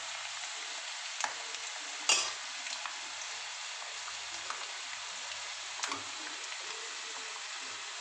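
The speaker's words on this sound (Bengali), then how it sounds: "এই বাদামগুলো আমার ভাজা হয়ে গেছে।" Peanuts fry in a pan while chanachur is made at home: a steady, close sizzling hiss with scattered sharp pops and one brief stirring clatter.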